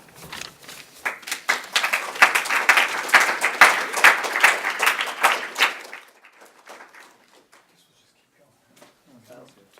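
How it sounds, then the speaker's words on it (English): Audience applause for student poets at a creativity and arts event builds over about six seconds, then fades to scattered claps and quiet murmuring. "Let's have another round of applause for all of the student poets for sharing their work"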